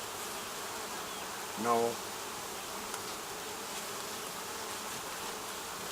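Honeybees buzz from an opened hive during a frame inspection, a low steady hum with one brief louder swell as a bee passes close.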